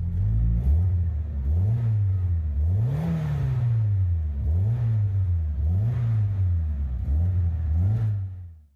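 A Nissan S14 drift car engine, roughly 280 horsepower, revving repeatedly at idle in a workshop, seven or eight rising and falling blips in a steady rhythm, loud and close with no talking.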